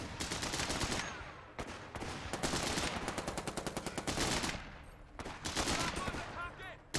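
Gunfire in the World War II strategy game Company of Heroes 3, with a rifle grenade among it: dense, rapid bursts and crackling volleys keep going almost without pause, loud and close, with brief gaps between the salvos.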